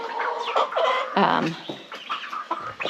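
Several chickens clucking and squawking close by, a busy run of overlapping calls throughout.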